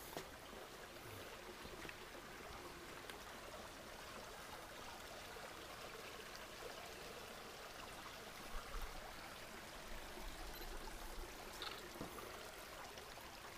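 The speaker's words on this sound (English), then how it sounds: "There's a nice water source" A small stream trickles steadily beside a backpacking trail in the Vermont woods, its soft, continuous wash of water filling the whole stretch at low level with no voices.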